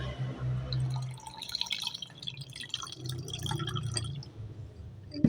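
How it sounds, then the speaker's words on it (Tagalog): Water poured into a glass for dalgona coffee, a close, trickling splash with glassy ringing that fades in and out over about five seconds, ending in a small clink. "Lagyan natin ng tubig,"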